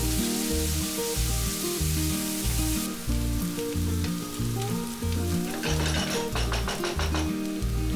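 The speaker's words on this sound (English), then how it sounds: "2 onions chopped, and then fry the onion until nice and soft" Chopped onions frying in a pan with green cardamom, star anise and bay leaves for a coconut-milk chicken curry, a steady sizzle running throughout under louder music, with stirring noises toward the end.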